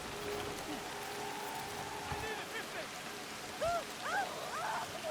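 Steady rain falls in the video game Assassin's Creed Shadows, a constant hiss throughout with scattered faint tonal game sounds and a couple of soft thuds layered over it.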